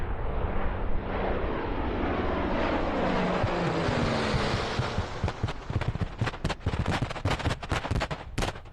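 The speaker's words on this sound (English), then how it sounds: "And here is the B-29's imitation bomb drop as seen from their perspective." Simulated bomb-drop pyrotechnics from a B-29 pass at an air show: a loud, sustained roar of aircraft and rumbling blasts building for several seconds, then a rapid string of sharp explosive cracks and bangs.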